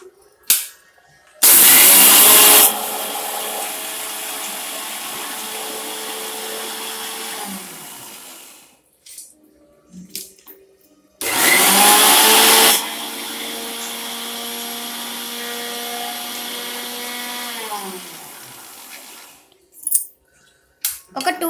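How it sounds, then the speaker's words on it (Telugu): A kitchen mixer grinder whirs through two loud bursts of several seconds each, grinding cucumber and raw mango chutney with rock salt, each run winding down as it stops, with quiet gaps and clicks between. "ఇప్పుడు మనం దీన్ని మిక్సీ పట్టేద్దాం."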